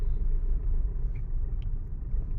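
A car pulling away in second gear after a slow clutch release, a steady low engine rumble and road noise throughout, fairly close and with no talking.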